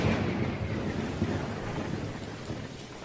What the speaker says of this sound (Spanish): tormenta eléctrica y un chaparrón de aquellos en Buenos Aires